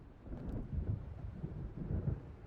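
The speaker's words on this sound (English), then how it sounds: "It seems there's a storm coming." Low, faint rumbling thunder from an approaching storm in the video game Alan Wake rolls in soft swells, distant and steady with no voices.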